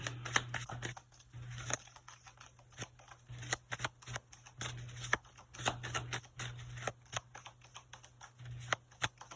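A tarot card deck being shuffled, giving repeated soft riffling and snapping bursts throughout, with a steady low hum underneath and no talking.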